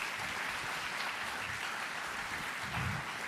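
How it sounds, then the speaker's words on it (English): Audience applause after a talk at a Jakarta intercultural event, a dense steady patter of many hands clapping together, moderately distant and fairly quiet, with no voices over it. "could we give another round of applause to Dr."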